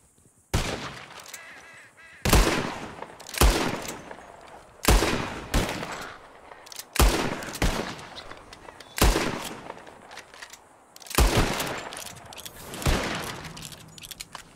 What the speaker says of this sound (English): whoever shoots four birds out of the sky first wins